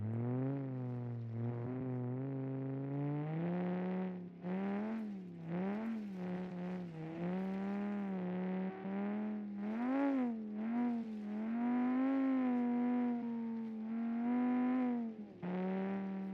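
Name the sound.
rally car engine without mufflers in a video game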